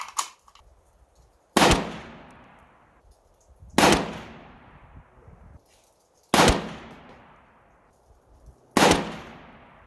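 A PSA 6.5 Grendel rifle fires reloaded ammunition (27.2 grain charge) at an outdoor range: four loud, sharp shots spaced a couple of seconds apart, each with a decaying echo tail and quiet pauses between.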